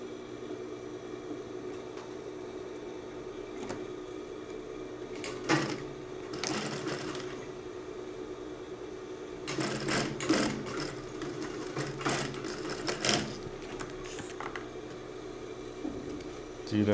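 Sewing machine stitching a fabric lining while making a small milk-carton style pouch at home, with several short bursts of mechanical whirring separated by pauses, close and fairly loud.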